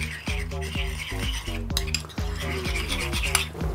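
A utensil stirs a sauce of mayonnaise, crushed garlic, chopped parsley and coarse grain mustard in a bowl, giving quick, close clinks and wet scrapes in a steady rhythm, with no talking.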